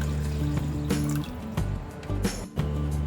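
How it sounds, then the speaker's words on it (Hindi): Water pours steadily into washed basmati rice in a pot, making a continuous splashing, trickling fill sound at close range with brief shifts in flow. "इसमें हम पानी डालेंगे और इसे 20 मिनट तक सोक करके रखेंगे।"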